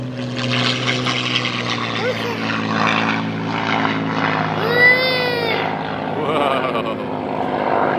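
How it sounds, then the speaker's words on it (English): A propeller airplane at an air show passes low and close, its engine drone rising and falling as it goes by, with voices nearby. "Here comes an airplane right down here."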